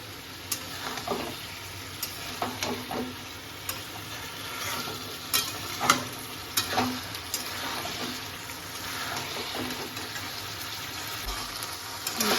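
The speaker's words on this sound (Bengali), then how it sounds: "আমি চালটা দিলাম এবার এটাকে আমি ভালো করে কষাবো" Rice being stir-fried in a pan with machha matha (fish head) for muri ghonto, with steady sizzling and repeated scraping stirs that are close and moderately loud, and no talking.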